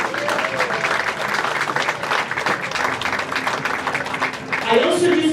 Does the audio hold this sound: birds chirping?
no